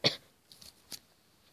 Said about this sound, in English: Sorry guys, I coughed.